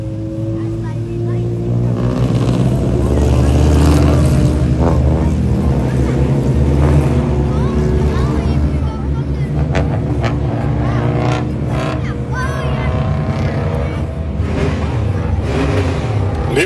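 Sport Compact race cars roar and accelerate on an oval track at a race start, loud and sustained with rising engine tones, while a commentator speaks over the engines.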